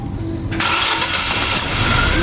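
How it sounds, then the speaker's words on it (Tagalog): A Nissan Almera's engine cranks briefly and catches, settling into a loud, steady running idle close by after a repair attempt. "Engine start!"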